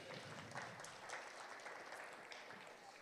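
Church audience giving a round of applause for a pastor during a sermon, a dense, steady burst of clapping from many hands, fairly quiet and unbroken throughout.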